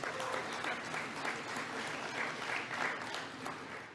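An assembly audience at a First Nations general gathering breaks into sustained applause, a dense and even wash of many hands clapping that carries on for the full stretch.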